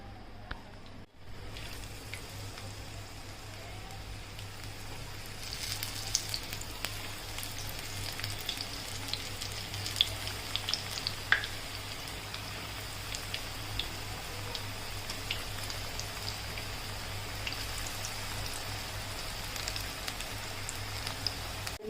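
Methi and potato bhajiya batter deep-fries in hot oil with a soft, steady crackling bubble, fairly quiet and continuous throughout, broken by faint occasional pops.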